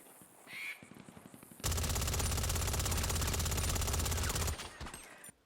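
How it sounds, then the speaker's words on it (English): Tactical SMG in GTA Online firing one long, loud, close automatic burst of about three seconds, following a few quieter scattered rattles, with no talk over it. "And finally let's test the tactical SMG."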